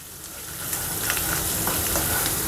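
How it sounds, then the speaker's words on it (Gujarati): Ground onion with turmeric powder and Kashmiri red chili sautés in a kadai, a close, steady sizzle with soft stirring scrapes that grows slightly louder after the first moment, no voices. "બધું જ મિક્સ કરી લીધા પછી 2 મિનિટ જેટલું સાંતળી લઈશું"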